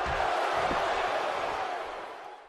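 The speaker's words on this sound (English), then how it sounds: "you can hear the crowd there fully behind Tyler Breeze this evening" Crowd cheering in the WWE 2K17 wrestling video game, a broad, steady roar of voices that holds loud for most of the clip and then fades out toward the end.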